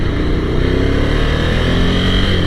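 A 2017 Ducati Scrambler Desert Sled engine drones loud and steady at cruising speed on a freeway, mixed with heavy wind roar, with no break.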